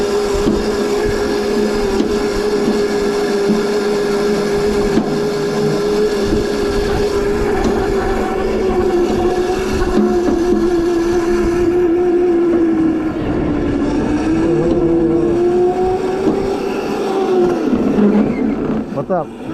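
An electric drift kart rolls along concrete with a steady whirring motor hum and road noise that rises and falls in pitch, continuous and close, with a person talking over it.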